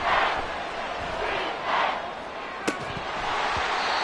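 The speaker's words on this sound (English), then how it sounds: "this crowd doing their best to make a lot of racket" Stadium crowd noise from an NFL football video game, 49ers at Washington, a steady broadband roar of fans making racket with a brief sharp thump partway through, no talk over it.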